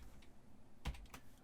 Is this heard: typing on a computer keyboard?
yes